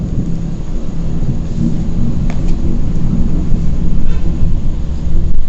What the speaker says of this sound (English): It's lightning terribly around me.